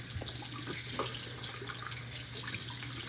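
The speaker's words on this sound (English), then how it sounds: "this is my hot water that I love. Now I'm gonna just rinse it on my face." Hot water runs steadily from a bathroom sink tap as it is splashed onto a face during a face-washing routine, a continuous close rushing with faint splashes throughout.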